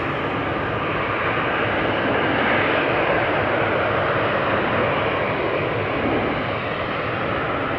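An airliner departs from the Polderbaan runway at Amsterdam Schiphol Airport with a steady, broadband jet roar that holds loud and constant throughout. There is no talk.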